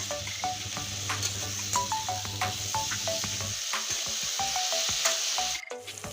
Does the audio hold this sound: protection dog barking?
no